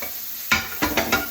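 Steak in a pan gives a few close, soft bursts of hissing sizzle that pulse unevenly over a quiet kitchen background.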